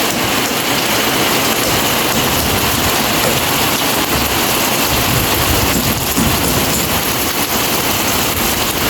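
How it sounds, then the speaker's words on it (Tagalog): Heavy rain pours steadily onto a house under construction during plastering work, a dense, loud, continuous roar of water on surfaces throughout, with no talking. "Ano talaga, ramdam mo talaga yung ulan."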